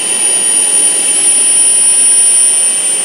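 A model turbine engine on a radio-controlled setup idles through its warm-up with a steady, loud jet roar and a thin high whine that holds constant throughout, with no voices.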